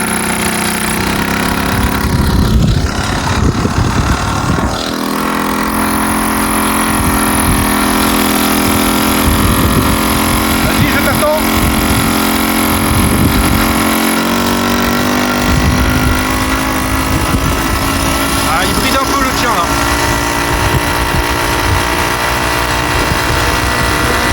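A small two-stroke Solex moped engine runs steadily for the whole stretch, a loud buzzing drone with slight rises and dips in pitch, close up.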